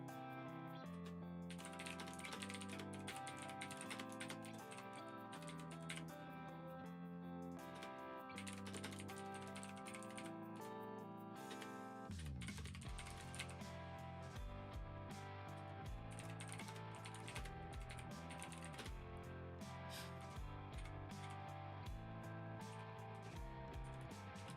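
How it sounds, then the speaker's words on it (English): Steady typing on a computer keyboard, a close run of soft key clicks going on without pause under faint background music, with no talking. "Enjoy a little typing ASMR while I'm doing this."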